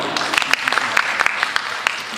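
Audience clapping at a stand-up comedy event on stage, a dense, steady patter of many hands filling the hall throughout, with a few sharper individual claps standing out.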